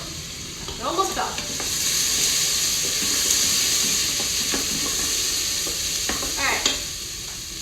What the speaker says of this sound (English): So these are done sauteing.